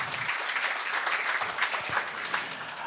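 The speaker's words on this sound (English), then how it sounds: "A round of applause." A community chess charity gala audience applauds steadily, dense clapping holding at an even level throughout without a break.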